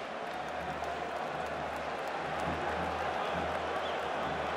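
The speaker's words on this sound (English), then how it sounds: "The crowd are cheering louder and louder" At a Serbia v Croatia handball match at the 2012 European Championship, a large arena crowd roars in a dense, steady din that builds slightly in volume. Cheers and clapping blend together, and a commentator's voice runs underneath.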